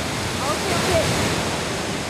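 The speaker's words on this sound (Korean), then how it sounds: "높이 91m에서 시원하게 쏟아지는 낙수 소리가 아주 크고 활기차다." Pagsanjan Falls in the Philippines pours from 91 m, a dense, continuous roar of falling water that stays loud and even throughout, with no other sound standing out.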